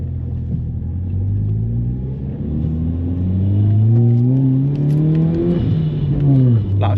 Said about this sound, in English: first gear pulls in this car are lethal